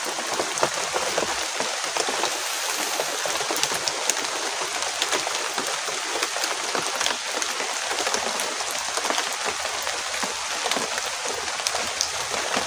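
Dense, loud downpour hissing continuously, with drops pattering on surfaces close by and no letup throughout.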